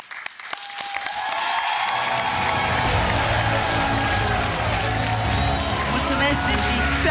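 Applause for an artist on stage during an emotional television show moment, which builds from a few scattered claps into loud, sustained clapping from a studio audience that holds steady to the end.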